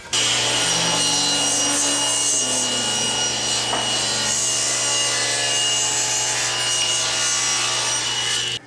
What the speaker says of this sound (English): So what I need to do next is cut this to rough width at the table saw.